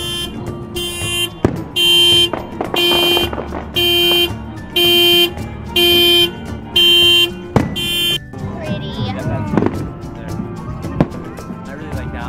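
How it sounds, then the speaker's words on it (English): A car alarm blares in repeated loud electronic bursts during a Fourth of July fireworks show, steady on-off pulses, then stops; a faint voice and outdoor noise continue afterward. "every few minutes the alarm goes off while we're all watching the fireworks show."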